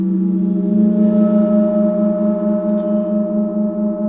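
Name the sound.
gong rubbed with a superball (Flumi) mallet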